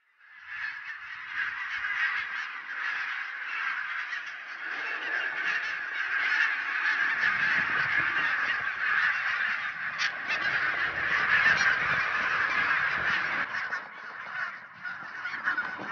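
A large flock of geese on Islay honks continuously, many overlapping calls forming a loud, dense chorus that swells and persists throughout.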